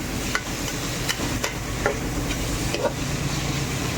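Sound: prawns frying and being stirred in a pan

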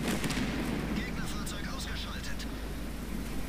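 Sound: artillery fire in World of Tanks video game

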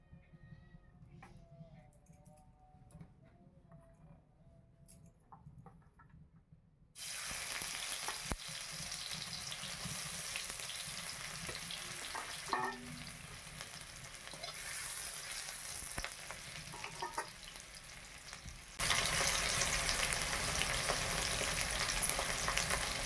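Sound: egg frying in a pan

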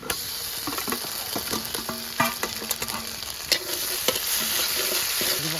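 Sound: cumin, onion and ginger-garlic paste frying in oil

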